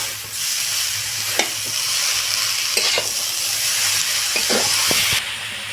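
Boiled cabbage goes into spices frying in a pan, giving steady sizzling and hiss with a few sharp scraping stirs, then the frying noise drops away near the end.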